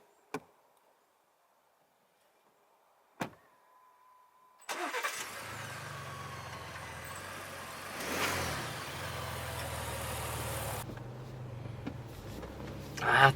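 A Lincoln Navigator SUV's engine starts after a few faint clicks and knocks, then runs with a steady low rumble and broad road noise that swells briefly, close and fairly loud, with no talking.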